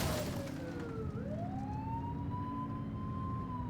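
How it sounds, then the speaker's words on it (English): Police car siren in the video game The Precinct, a loud continuous wail sweeping down and then rising again over engine rumble. "You're only meant to use the siren in emergencies."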